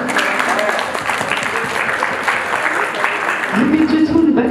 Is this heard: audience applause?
yes